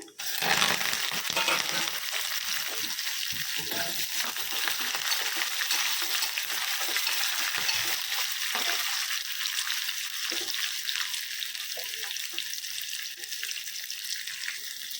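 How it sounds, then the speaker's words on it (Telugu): Onions, green chilies and curry leaves frying in a hot oil tempering for a bottle gourd milk curry, a loud steady hiss and crackle with occasional stirring clinks, no talking. "ఇప్పుడు మన తిరగమాత వేగిపోయిందండి ఉల్లిపాయలు పచ్చిమిరపకాయలు కరివేపాకు వేసేసుకున్నాము"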